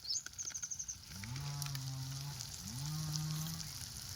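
A cow on a farm moos twice in long, low, drawn-out calls, close and clear, after a few faint chirps and a soft sizzling hiss in the background.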